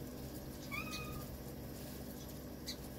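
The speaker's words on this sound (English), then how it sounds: "Like Kitty here. She's on rat patrol" A cat meows a couple of times at a distance over a steady outdoor backyard hum, faint and brief against the background.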